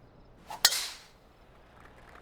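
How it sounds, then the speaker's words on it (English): A single sharp crack of a club striking a golf ball on the tee in PGA Tour 2K23, close and crisp, followed by a brief airy trail and near silence. "Time to tee off here at the 14th."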